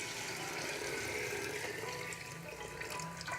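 Water is poured into a pot of chicken pulao gravy, giving a continuous rushing, splashing pour at a fairly low level that holds steady for several seconds.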